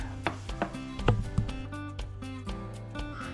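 Knife chopping potatoes for twice-baked potatoes on a cutting board, a series of close, uneven thuds about every half second.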